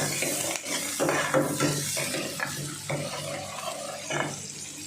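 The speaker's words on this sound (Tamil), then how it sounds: "வெங்காயம், கருவேப்பிலை எல்லாம் சேவக்கணும்." Onions and curry leaves sauté in hot oil for a Tamil quail pepper fry, giving a steady close sizzle broken by repeated stirring scrapes and light clinks of a spoon against the pan, with no talking.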